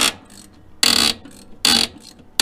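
A car brake adjuster being loosened with a wrench, moving the brake cam inside the drum, gives two loud bursts of sharp metallic ratcheting clicks with quieter clicking and gaps between them.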